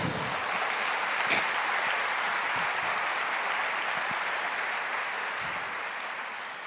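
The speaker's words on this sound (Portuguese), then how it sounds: "Pode aplaudir o Senhor." A church congregation applauds the Lord, with sustained dense clapping from a crowd that stays strong and even before easing slightly toward the end.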